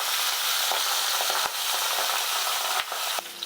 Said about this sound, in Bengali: এইভাবে আমি সব মাছগুলো ভেজে নিচ্ছি